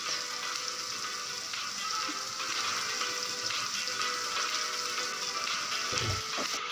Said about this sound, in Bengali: চিংড়ি মাছটাও হালকা করে ভেজে নেব